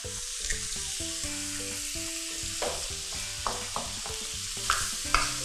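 Shrimp and squid stir-fried with egg in a wok for fried rice, a bright continuous sizzle with repeated scraping and tapping of a spatula on metal, close and steady, with a faint tonal hum in the background.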